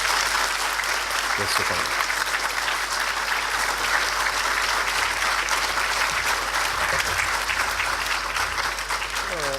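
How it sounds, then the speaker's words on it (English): Steady, dense applause from a conference audience at the 26th Annual Conference of the Glaucoma Society of India fills the full stretch, loud and close, with a voice speaking briefly over it near the end. "let's give a big applause to our guest"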